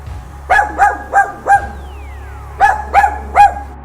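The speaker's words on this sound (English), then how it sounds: "I'm officially being bullied by a cute wiener dog." A wiener dog barking, two bursts of sharp, loud barks, four in a quick run, a short pause, then three more, close up over a low steady hum.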